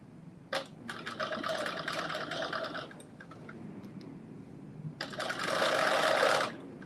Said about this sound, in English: So I'm putting a basting stitch in the first like 7 inches, and then I'm going to go to a regular stitch.